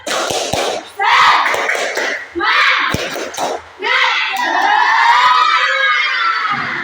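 Children clap and shout together in loud rhythmic bursts, a group chant of "tepuk semangat" with quick claps, ending in a long sustained cheer.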